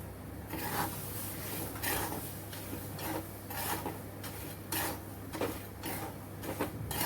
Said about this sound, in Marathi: आता थोडे चणे भाजून घेऊया याच्यात थोडे थोडेच घ्यायचेत आपल्याला भाजून